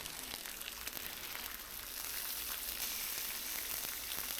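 Bacon and smash burger patties on onions fry on a griddle with a steady, faint hissing sizzle that swells slightly partway through, alone without talk.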